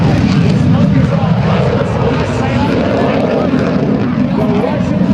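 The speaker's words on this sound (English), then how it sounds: "The Russian Bull MiG-17 will roll a dirty aerodynamic roll on takeoff." A Russian MiG-17 jet rolls on takeoff at a joint services open house air show, a loud, steady roar of engine and wind noise that fills the whole stretch without letup.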